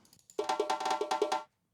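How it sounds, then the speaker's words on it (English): Two layered djembe samples, one higher and one lower, strike a short rhythmic percussion pattern of about a dozen quick dry hits, close and clean, ending abruptly with no talk. "it's just these 2 djembe samples playing"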